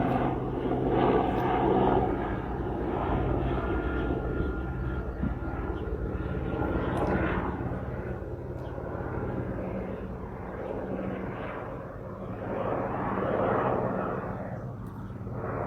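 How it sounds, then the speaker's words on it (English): A helicopter's low, steady rotor drone fills the whole stretch, swelling and easing slightly as it passes overhead. "I'm just gonna let the helicopter pass."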